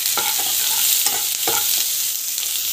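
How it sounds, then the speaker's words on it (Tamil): Paneer sizzles steadily in a hot pan for Hyderabad-style paneer biryani, with a few spatula stirring scrapes over the continuous frying hiss; no voices. "இதெல்லாம் பார்த்திங்கன்னா நல்லா வந்து ஃப்ரை ஆகிடணும்."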